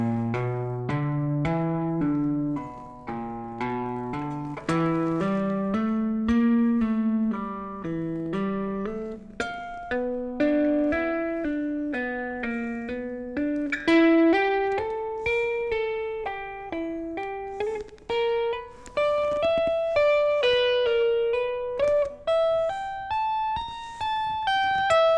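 An electric guitar plays a blues scale lick slowly, a steady run of single notes climbing gradually in pitch, alone and at moderate volume.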